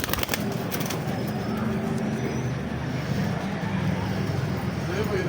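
Teddy and Chapra cross-breed pigeons coo softly amid a busy outdoor background hum, with a few clicks at the start.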